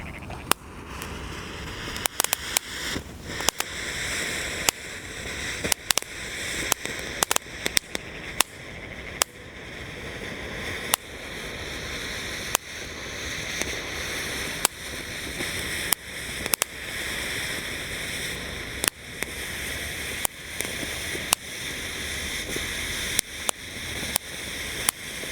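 A long firework fountain burns at night during Ramadan celebrations, giving a steady loud hissing spray with frequent sharp crackles and pops scattered throughout.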